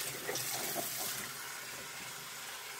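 Water poured out of a gas mask, a continuous splashing rush of liquid held at a steady level for a few seconds, close and fairly loud.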